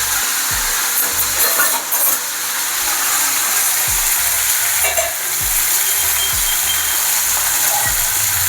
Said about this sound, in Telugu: ఇలా కొద్దిగా ఫ్రై అయ్యాక ముందుగా మనం కడిగి పెట్టుకున్న కాలీఫ్లవర్ ముక్కల్ని వేసుకోవాలి.